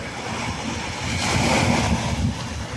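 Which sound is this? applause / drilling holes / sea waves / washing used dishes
sea waves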